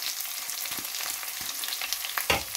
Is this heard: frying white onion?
yes